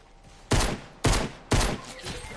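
Three loud, evenly spaced gunshots crack out in a shooter game, each sharp burst trailing into a brief rumbling decay, with a softer fourth report fading in at the end.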